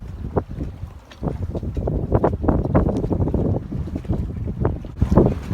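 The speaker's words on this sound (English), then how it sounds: "It's a pretty windy day" Gusty wind buffets the microphone in rough, rumbling bursts, rising and falling without pause, aboard a sailboat on Lake Ontario.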